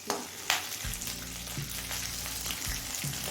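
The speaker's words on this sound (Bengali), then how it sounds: "রসুন কাঁচা লঙ্কা দিয়ে আমি মিনিট দিয়ে ভেজে নিয়ে" Garlic and green chilli fry in a pan with a steady, close sizzle and crackle, with occasional stirring scrapes; no voices are heard.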